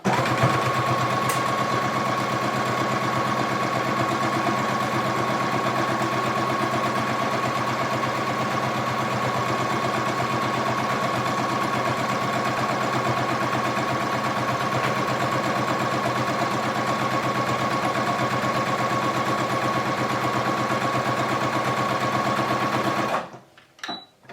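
A sewing machine stitching forward and then back on a homemade rice heating pad, running as a continuous close mechanical whir for over twenty seconds before stopping abruptly, followed by a few soft clicks.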